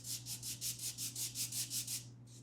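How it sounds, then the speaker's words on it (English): Sanding on the dorsal fin area of a Top Flite 1/7 scale P-51D Mustang model airplane fuselage produces about eleven close, even back-and-forth rasping strokes in quick rhythm, then stops, with a faint steady hum beneath. "I'm sanding the dorsal fin area."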